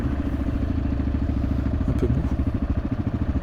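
A borrowed motorcycle's engine runs off-road on a sandy track toward white beaches in Morocco. A loud, close, rapid pulsing putter drones steadily throughout, with a brief word spoken over it.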